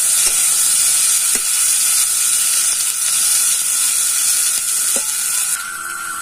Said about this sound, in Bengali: এবার আমি আলুগুলো ভেজে নেব।